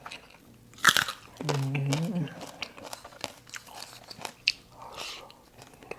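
Fresh vegetables are eaten with a fresh-chili fermented fish dip (pla ra jaew), giving loud close crunchy bites followed by wet chewing that continues in an irregular rhythm.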